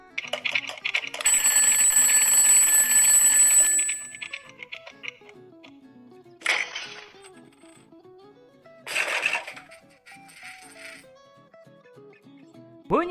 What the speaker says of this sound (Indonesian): Bunyi panjang, seperti bunyi jam beker.